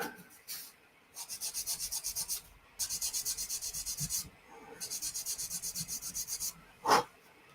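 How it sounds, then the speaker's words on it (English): Rhythmic rasping strokes of sanding a plastic Tamiya Lexus LFA model car body in three sustained bursts, steady back-and-forth scrubbing, close up, with a brief knock near the end. "Especially when you're sanding."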